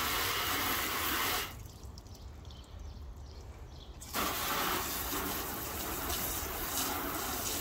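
Water sprays onto the dirty paint of a car during a wash, a loud hissing spray that drops off briefly in the middle and then resumes at full strength; no one speaks.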